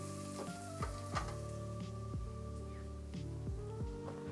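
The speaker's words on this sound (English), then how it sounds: "I can hear it sizzling away." Vegetables and chorizo for red-bean dirty rice fry quietly in a pan, a soft continuous sizzle with occasional faint stirring scrapes, heard alone and at low volume.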